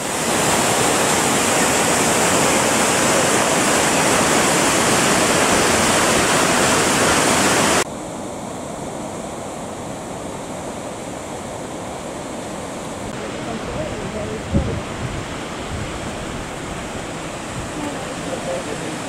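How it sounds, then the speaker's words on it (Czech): Barnafoss waterfall in Iceland rushes through a narrow rocky gorge as a loud, dense, unbroken roar. Partway through, the level drops abruptly and stays at a softer, steady wash. "Sousední vodopád Barnafoss, neboli dětský vodopád, je oproti svému lávovému sousedovi mnohem živější a hlučnější, protože protéká úzkou skalnatou roklí."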